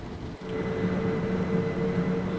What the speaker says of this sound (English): I mean, I personally just like the sound of the trains that they make.